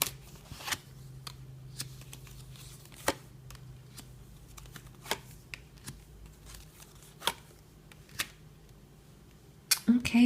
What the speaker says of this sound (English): let's give the cards a good shuffle on camera